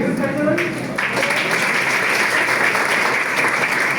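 An audience at an award-style gathering honouring a herbal researcher bursts into steady clapping, a dense crackling wash of many hands that continues without pause for several seconds, close and loud.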